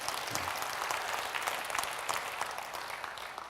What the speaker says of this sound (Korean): 여러분 들었으니까 감사 박수합니다